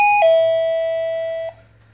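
A wireless remote doorbell rings once with a clear two-tone electronic ding-dong chime, loud and close, the second tone sustaining before cutting off, with no talk over it.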